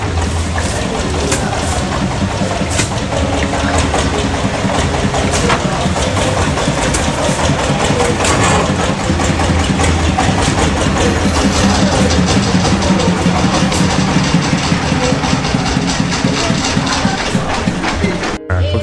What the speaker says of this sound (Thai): ก็จะใช้รถแบบนี้ คล้ายๆกับเป็นรถไถนา